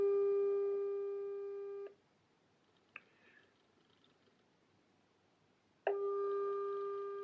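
A WhatsApp call rings out unanswered: a steady tonal ringback tone plays, cuts into a few seconds of near silence with a couple of faint clicks, then the same ringing tone starts again, clean and alone.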